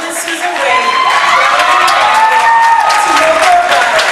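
Graduation audience applauding and cheering for teachers, loud clapping mixed with whoops and high-pitched shouts from many voices, sustained throughout.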